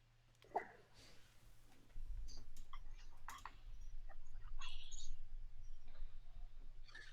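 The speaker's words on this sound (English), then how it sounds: "Cliff is typing on one of the world's smallest keyboards" Fingers tapping on one of the world's smallest keyboards, giving a scattering of light, irregular clicks that sit under steady background hum and a voice talking.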